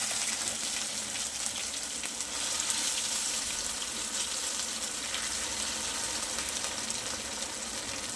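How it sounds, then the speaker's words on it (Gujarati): Mustard seeds and white sesame crackle in hot oil as semolina batter for instant handvo is added to the pan, a steady close frying hiss and sizzle running without a break. "રાઈ અને તલ સરસ તતડી ગયા છે. હવે એમાં 2 થી 3 ચમચા બેટર ઉમેરી દઈએ."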